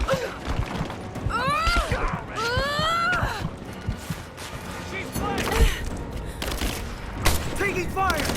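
Rapid gunfire bursts and shots crackle through a firefight in Rise of the Tomb Raider, mixed with mechanical clatter and shouted combat voices, dense and close with repeated sharp impacts.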